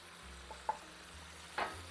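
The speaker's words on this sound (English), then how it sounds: "now let all this fry on a low heat, like a medium heat, for another 3 minutes" Chicken frying with garam masala and red chili powder at medium heat, a faint low sizzle with a couple of sharp spoon-stirring clicks and scrapes, close and quiet with no speech.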